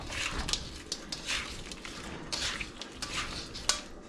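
Butter shrimp with ketchup and crushed black pepper stirred in a pan, a utensil scraping and clinking against the metal in uneven strokes over a faint sizzle, close and fairly quiet.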